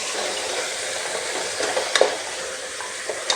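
Washed mutton pieces sautéing in sesame oil for a Chettinad gravy, a steady close sizzle with occasional stirring scrapes and clicks of a spoon in the pan.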